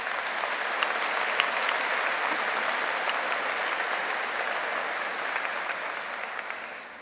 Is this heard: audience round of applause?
yes